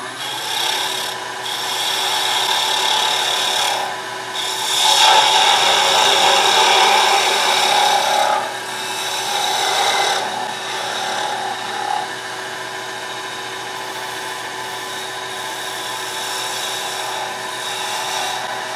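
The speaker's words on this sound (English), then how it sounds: "start putting a curve on here with the bowl gouge" A bowl gouge shapes a wooden mortar on a lathe, producing a loud, hissing, rasping scrape with a steady motor whine beneath; the cut swells and fades in long passes, close up.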